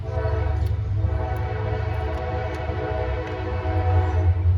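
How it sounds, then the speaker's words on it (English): Steady, loud rumble of a train passing close by, a deep sustained drone with a horn tone that swells toward the end. "That's afternoon train."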